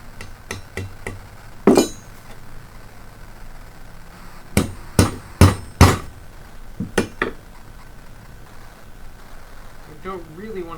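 Hammer blows on a metal nail while building a wooden frame for sand casting, sharp ringing strikes in irregular clusters, one early and a quick burst of several in the middle, close and loud over a quiet room.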